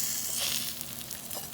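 A Chinese chive pancake, a chive pocket, fries in a hot pan with a steady, close sizzle of bubbling oil that holds even and bright throughout, with no voices over it.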